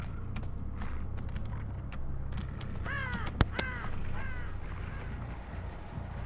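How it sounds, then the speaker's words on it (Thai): Several crow caws ring out in the Dead by Daylight video game, a few harsh calls clustered midway over a low ambient background, with scattered clicks and a sharp thump among them. "ได้ยินเสียงอีกาว่ะ"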